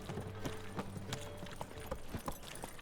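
Roach, Geralt's horse in The Witcher 3 video game, clip-clops along with steady, close hoofbeats over a continuous ambient game soundscape.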